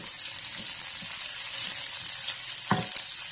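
Onion sautéing with garlic in hot oil for ginataang manok, an even close sizzle with soft stirring scrapes and one sharper clatter near the end.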